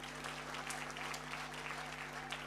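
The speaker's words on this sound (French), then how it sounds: "Applaudissez pour nous." Applause from an audience in a hall where a couple had celebrated their wedding, steady clapping throughout with a low electrical hum underneath.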